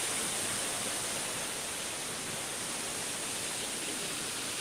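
Steady broadband rush of a waterfall at Epcot, a continuous even roar filling the whole stretch with no breaks and no voices over it.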